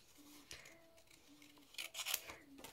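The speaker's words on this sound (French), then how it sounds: "Je suis venue découper tout autour avec des ciseaux." Scissors cut around a paper shape for a handmade advent calendar craft: quiet, close snipping and slicing strokes come in a few separate bursts, with brief paper rustles between them.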